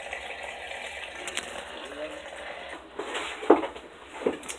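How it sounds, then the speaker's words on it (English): Water running into a portable washing machine, a steady low gush with a couple of louder splashes or knocks near the end. "I've got the water filling up"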